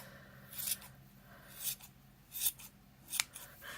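Scissors snipping through yarn while trimming a pom pom, several crisp separate cuts spaced irregularly, close and fairly quiet with no talking.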